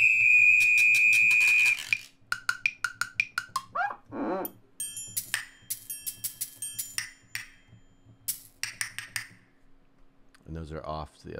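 A steady high electronic tone gives way to a run of quick, bright metallic bell strikes in a lively rhythm, ending with a short burst of lower percussion.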